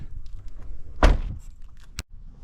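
The door of a Corvette Z06 C7R race car is opened, giving a solid mechanical thunk followed a moment later by a sharp latch click, close and distinct against quiet background.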